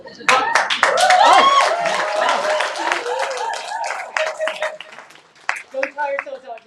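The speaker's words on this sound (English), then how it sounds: "Hold on to some of the applause." Audience applause at a live collaboration event, a burst of clapping heard under and around a close, loud speaking voice that continues throughout.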